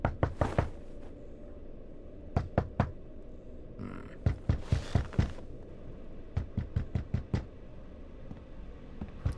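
Sharp knocks on a door in the video game The Wolf Among Us come in quick clusters of two to four raps, loud and close, repeated insistently over a faint background hum.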